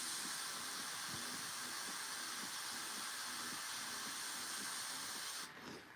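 Airbrush spraying paint onto a Warhammer miniature, a soft continuous hiss of air and paint held steady for several seconds before cutting off, heard close and alone.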